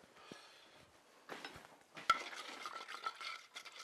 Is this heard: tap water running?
no